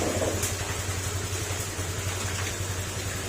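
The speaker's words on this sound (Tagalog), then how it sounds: "Timing to timing ko yung makina niya." An engine with a loose crankshaft and overheating idles steadily with a low, even rumble, running alone without talk for a few seconds.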